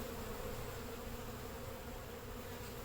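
Honeybees drone in a steady, dense hum around queenless hive splits, a constant close buzz of many insects with no pauses or voices.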